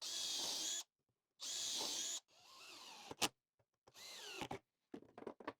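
A power drill driving screws into a wooden fence arm for a table saw setup, with two sustained whirring bursts, then quieter motor runs and short clicks and knocks of handling in between.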